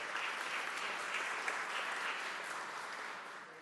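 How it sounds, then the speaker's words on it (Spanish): A crowd applauds steadily, a dense wash of clapping that holds for several seconds and tapers slightly toward the end. "Un aplauso también para todos y todos ustedes."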